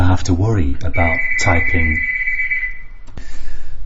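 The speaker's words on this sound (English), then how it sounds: "Sorry, that was my doorbell going there." A doorbell rings once as a long, steady electronic tone that runs under a man's speech and then fades out while he keeps talking.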